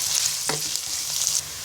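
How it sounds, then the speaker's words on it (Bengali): Chopped onions fry in hot oil with a steady, close sizzle. A spoon stirs them briefly partway through, and no one talks. "এবার পেঁয়াজটাকে ব্রাউন কালার করে ভেজে নিব।"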